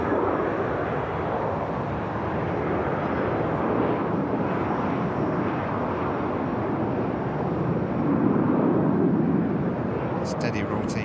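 A Corendon passenger jet rotates on takeoff at an airport, its broad engine roar steady and loud throughout, swelling slightly near the end, with wind buffeting the microphone.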